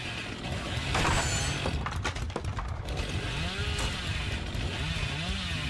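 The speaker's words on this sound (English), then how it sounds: "revving the chainsaw in places he doesn't really need to" A chainsaw revs in a Dead by Daylight match, a gritty buzzing roar that rises and falls in bursts, mixed with clattering game noises and thuds.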